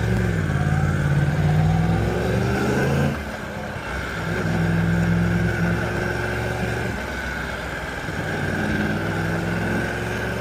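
Yamaha R1 sport motorcycle engine heard while riding, a steady loud droning exhaust that drops briefly as if shifting gear, then builds back to a sustained hum with wind rush.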